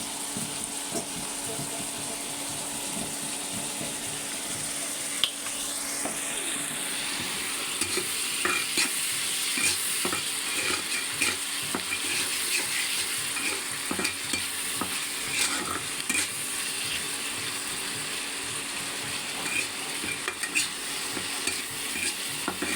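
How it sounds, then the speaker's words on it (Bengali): Sauce goes into a hot pan and is stirred through the loud sizzling, with a constant hiss and scattered scraping clicks of the utensil continuing steadily throughout, close up with no voices. "আমি এখন সস দিয়ে দিচ্ছি"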